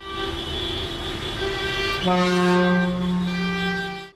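Vehicle horns blare continuously and loudly in a protest convoy of dozens of cars in Istanbul, one long held tone soon joined by a lower overlapping horn.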